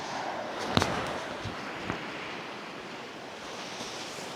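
Open sea on the Balochistan coast, a continuous wash of surf and wind noise with a couple of brief sharp knocks early on, no voices over it.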